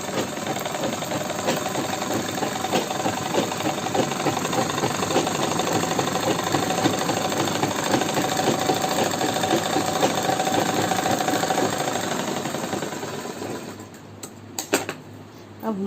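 A sewing machine stitches a wavy line on a salwar, running in a continuous close mechanical whir with fine rapid ticking, then slowing and stopping near the end.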